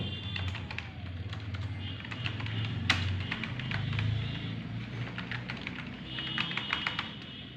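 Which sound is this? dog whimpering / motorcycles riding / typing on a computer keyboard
typing on a computer keyboard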